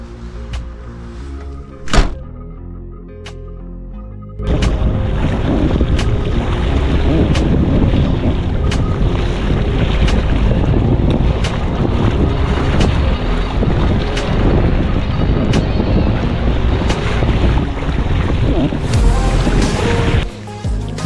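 Strong storm wind buffets a fishing boat on a lake, a loud continuous roar of wind noise with occasional knocks and thunks against the hull, after a quieter opening with a single sharp bump.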